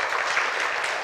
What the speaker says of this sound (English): Yep, you can clap, that's fine.